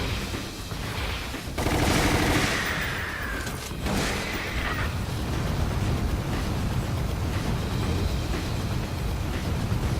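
Gunfire from the video game Resident Evil: The Umbrella Chronicles as a monster is shot, sounding as a dense, continuous burst of loud rapid shots mixed with rumbling effects throughout.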